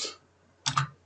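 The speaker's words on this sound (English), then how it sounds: "Let's type something. I'm going to type like hello" A few quick keystrokes on a computer keyboard, one soft click at the start and a tight cluster of clicks near the end, close and quiet with silence between.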